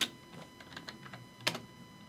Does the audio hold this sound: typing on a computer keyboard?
yes